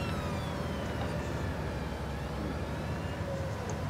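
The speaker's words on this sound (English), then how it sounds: "Police car in a rush." Police car siren wailing past at a seaside roadside, a steady high sweeping tone over constant rumbling traffic or engine noise, moderately loud throughout.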